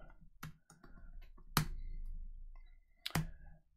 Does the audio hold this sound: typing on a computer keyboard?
yes